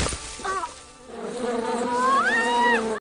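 Wasps buzz in a drama film scene as a woman is chased after falling, a loud, close, wavering drone that rises and dips in pitch, with background music underneath.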